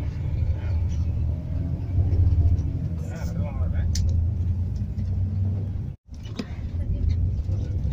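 Ride aboard a Metro city bus, with a steady low engine rumble and road noise throughout and one brief dropout near the end; passengers talk faintly over it.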